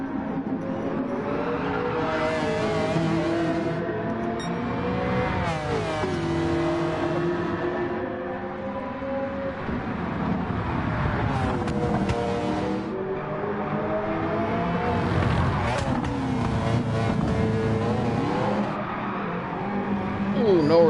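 Race cars lapping Road Atlanta in Gran Turismo 7 during an F1 GT3 endurance race, engines whining up and down through gears and passing by, with a commentator talking over them.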